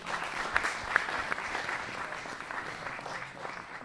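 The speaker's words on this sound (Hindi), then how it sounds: "आपसे गुजारिश करता हूँ जोरदार तालियों से उनका इस्तकबाल करें" Audience applause welcoming a poet at a mushaira, steady clapping with a few sharper claps standing out, fairly faint and distant throughout.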